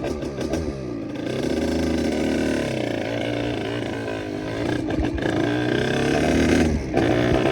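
A 70cc motorcycle engine running rich sounds loudly and steadily while riding, its pitch rising and falling with throttle changes, with a few brief gear-change dips.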